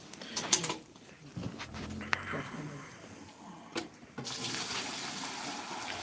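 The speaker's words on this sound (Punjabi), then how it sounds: "ਸੋ ਹੁਣ ਆਪਾਂ ਦੁੱਧ ਜਿਹੜਾ ਉਹ ਬਾਲਟੀ 'ਚ ਪਾਉਨੇ ਆ" Fresh buffalo milk is poured from the milking vessel into a bucket, a steady splashing stream that swells loudly in the last seconds after some earlier clatter and handling noise.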